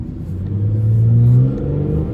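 A car engine rises in pitch as it accelerates slowly through a parking lot, then eases off to a steady hum. The revving is close and fairly loud, with no voices over it.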